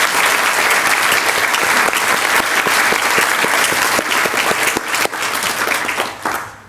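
A graduation audience in a university hall gives a sustained burst of loud applause and cheering, dense clapping from many hands that holds steady before tapering slightly toward the end.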